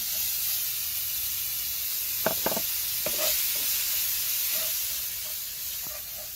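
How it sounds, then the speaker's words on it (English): Bacon sizzling in a hot pot, a steady bright hiss of frying fat punctuated by a few soft scrapes and pops of stirring, fairly quiet and with no one speaking. "now we just need to add our bacon to this"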